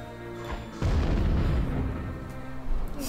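A deep, booming explosion in the video game American McGee's Alice bursts out suddenly and rumbles on with a dense, crackling low-frequency roar.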